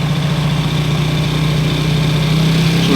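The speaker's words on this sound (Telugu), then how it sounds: "మళ్ళీ రేజ్ అవుతుంటూ ఉంటుంది బండి" A motorcycle engine runs steadily during carburettor air screw adjustment, a close, continuous idle-to-raised hum with a strong low tone and no talk over it.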